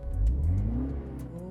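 A 306-horsepower car engine in sport mode revs up loudly and briefly, rising in pitch then settling, close by with no talking.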